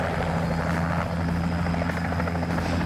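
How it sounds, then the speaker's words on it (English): A helicopter at the Oconto Fly-In in Wisconsin, heard as a loud, steady, close rotor and engine drone with a rhythmic throbbing chop that carries on without a break. "All right, let's get to the chopper"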